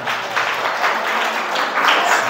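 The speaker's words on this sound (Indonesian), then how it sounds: "Tepuk tangan buat Tuhan." Congregation at a church service applauds, a steady, dense wash of clapping from many hands that holds at an even, fairly loud level throughout.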